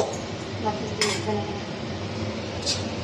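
A lid goes onto a pot of simmering fish curry with a couple of sharp metal clanks and clinks over a low kitchen rumble, with a voice faintly in the background.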